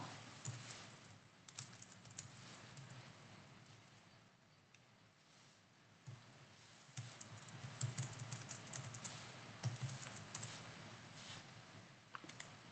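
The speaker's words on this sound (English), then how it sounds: "So type in my user name." A user name typed on a computer keyboard, quiet rapid key clicks in irregular bursts with short pauses, near and faint.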